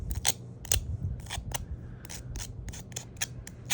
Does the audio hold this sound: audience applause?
no